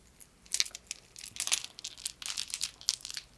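A bracelet strung with dried seeds clacks and rattles softly in scattered, light bursts, close and quiet with no voice.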